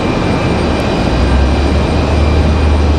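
Icelandair flight 821 from Reykjavik arrives at Raleigh-Durham International Airport with a loud, steady jet-engine roar that holds at close range throughout.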